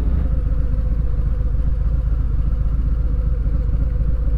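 A 2019 Harley-Davidson Fat Boy 114 engine runs loud and close, a deep steady rumble with rapid low pulsing throughout and no voices.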